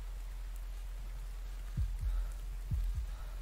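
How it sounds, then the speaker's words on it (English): Muffled, low heartbeat thumps in the horror video game Folklore Hunter, signalling a Wendigo nearby; two pairs of soft beats come in a slow lub-dub rhythm over quiet background hiss. "heartbeats means the Wendigo is close"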